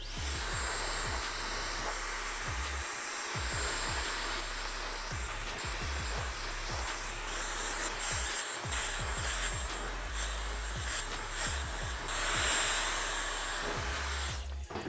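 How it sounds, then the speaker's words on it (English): Hair dryer blowing steadily on a man's styled hair, a continuous loud whooshing roar that shifts slightly in pitch as it is moved around, close by with no talking. "So I'm gonna blow dry this, and as I'm blow drying, I'm just doing my normal thing."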